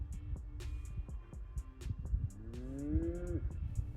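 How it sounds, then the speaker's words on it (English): Cattle mooing on a ranch at an old store site in a former gold rush ghost town, one drawn-out rising moo over a faint low rumble, fairly distant and quiet. "they're starting to make a little noise. Happy cows on the old Ajax store."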